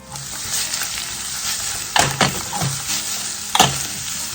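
Thinly sliced bitter gourd (goya) stir-fried in oil, giving a steady close sizzle with a few louder bursts of scraping and tossing as the pieces are stirred in the pan.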